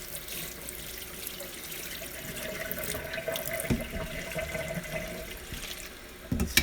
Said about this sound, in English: Now I'm going to use cold water, and we're just going to keep washing this